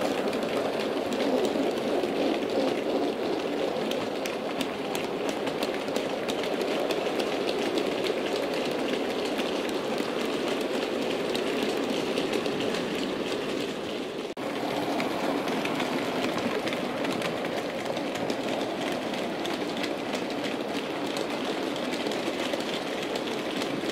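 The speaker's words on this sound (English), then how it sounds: "Here's the Ivatt doing what it's designed to do," Steady rumble of a Bachmann Ivatt 4MT model steam locomotive hauling a heavy freight train along the track, with continuous wheel and carriage noise at an even level throughout, no voices.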